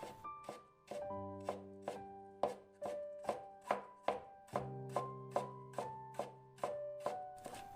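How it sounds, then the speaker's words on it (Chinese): A knife shreds a small piece of ginger on a cutting board, a brisk, evenly spaced series of about sixteen sharp chops, close and clear, with a faint tonal hum underneath. "一小块生姜切成丝"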